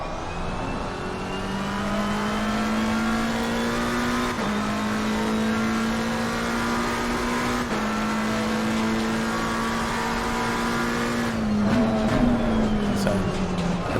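Race cars lap Donington in Assetto Corsa Competizione, one engine droning loud and close at high revs with a Ferrari pushing close behind, its pitch dipping briefly at gear changes and shifting near the end amid tyre noise.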